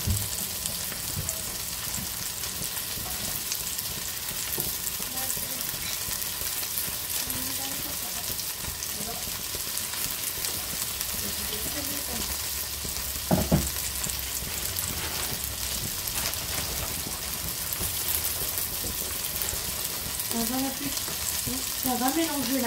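A potato and sausage stew in tomato sauce sizzles steadily in a pan while a spoon stirs it, with faint scraping and a brief knock midway, continuous and close, with no talking.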